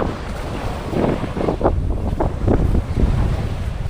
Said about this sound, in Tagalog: Medyo malabo yung tubig kasi sobrang lakas ng hangin na umaalon, tapos nagugulo yung hangin.